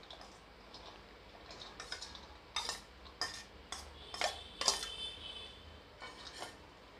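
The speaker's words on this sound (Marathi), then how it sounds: "भेंडी टाकते." Okra dropped into a pan for frying: several crisp clattering hits and light metallic clinks, close and moderately loud, spread over a few seconds with no talking.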